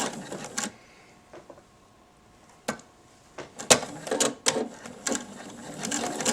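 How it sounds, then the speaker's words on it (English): A sewing machine stitches together the two sides of a homemade fabric face mask, in short bursts of rapid mechanical clatter separated by quiet pauses, close up. "Just start sewing."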